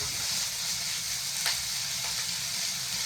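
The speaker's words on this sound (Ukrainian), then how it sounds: "Ой, як чуєте, як шкварчить" Potatoes with duck cracklings fry in a pan, a steady loud sizzle and crackle with a few soft scrapes of stirring.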